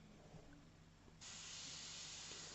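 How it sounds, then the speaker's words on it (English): An airbrush gives a test spray before painting an oil portrait: a quiet background hum, then a steady, sustained hiss of air and paint that starts about halfway through and runs to the end. "Okay, test spray,"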